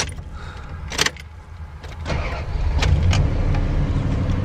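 A van's engine starts and settles into a smooth, steady idle after a crankshaft sensor replacement, heard up close with a few clicks and clunks near the start and the rumble strengthening over several seconds, with no talk.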